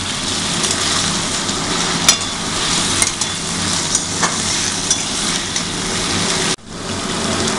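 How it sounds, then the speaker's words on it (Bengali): Soyabean chunks and boiled potatoes frying and being stirred in a pan for a Bengali home-style curry, a steady loud sizzle with occasional scraping clicks, cutting off briefly near the end. "এবারে জিনিসটাকে ভালো করে ভাজতে হবে।"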